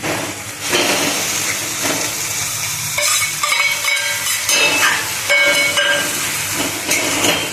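Eggplant dropped into oil with hot fried spice masala for a Maharashtrian vangyachi bhaji, giving a steady loud sizzle and hiss with stirring clatter and scraping throughout.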